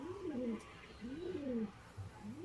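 Pigeons kept in a home loft coo in three repeated rolling, throaty phrases, soft and somewhat distant, over a quiet background.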